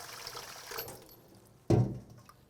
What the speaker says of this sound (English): give it some fresh water, and start running some water through the casing